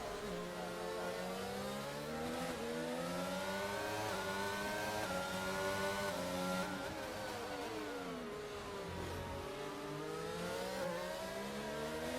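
Several race car engines in a sim racing game at the Baku circuit scream continuously in a drag race to the line, their layered whines rising and falling as the cars shift and accelerate, loud and close with no talk.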